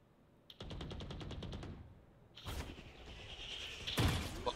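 A rapid string of automatic gunshots from the tactical shooter Valorant on console, played in ranked, rattles off in a quick even burst, followed by further impacts and a heavier thud, all fairly close and without talk.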